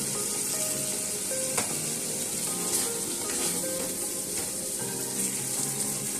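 Chopped potatoes hit hot spiced oil in a pan, giving a loud, steady sizzle and crackle with faint stirring throughout, close and uninterrupted.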